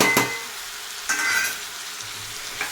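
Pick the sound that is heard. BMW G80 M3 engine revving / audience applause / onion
onion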